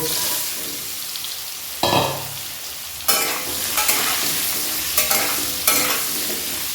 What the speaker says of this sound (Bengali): সর্ষের তেল দিয়ে আমি মোচার আলুগুলোকে ভেজে নেব